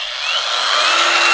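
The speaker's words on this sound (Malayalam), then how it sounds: "ബാറ്ററി ഇടുന്ന ഗ്രൈൻഡർ" A battery-powered cordless angle grinder whines steadily at high speed, a loud continuous motor hum with no voices over it.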